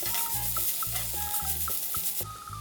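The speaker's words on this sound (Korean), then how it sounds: "즉석밥 한 개를 넣어 함께 볶아주세요." Instant rice is stir-fried with translucent cooked onions in a pan, giving a steady sizzle punctuated by regular scraping strokes of a utensil, close and continuous, with no talking.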